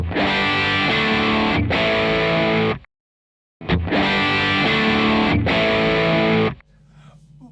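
Heavily distorted electric guitar chords through a Quad Cortex or Nano Cortex amp modeler ring out loud and sustained, cut by a brief silence, then return before fading to a faint hum.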